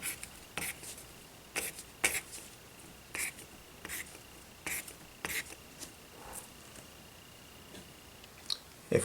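Handwriting out a math answer, rounding a result, produces soft, close scratchy strokes in short separate bursts with quiet pauses between them, and no talking.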